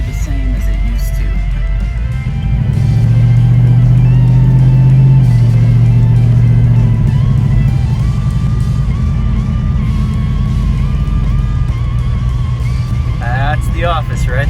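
A car drives steadily with a loud, constant engine and road rumble that swells slightly early on, continuous and close, with a brief knocking near the end.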